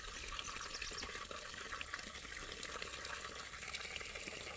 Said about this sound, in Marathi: दे मी पाणी घालतो.